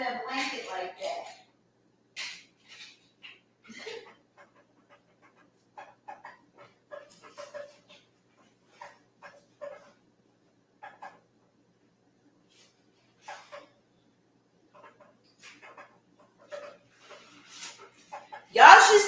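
A dog lies curled under a blanket indoors, giving soft, intermittent whimpers and breathy pants between long quiet gaps, ending in a louder burst.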